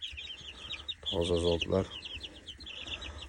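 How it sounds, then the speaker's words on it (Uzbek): Korean-breed chicks chirp in quick, high, overlapping peeps throughout, close by, while someone briefly speaks over them. "Koreya zotiga mansub jo'jalar"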